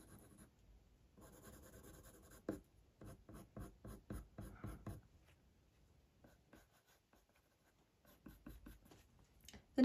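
Coloured pencil strokes on drafting film, close and quiet: bursts of rapid short scratching strokes in rhythmic runs separated by pauses, with no voice.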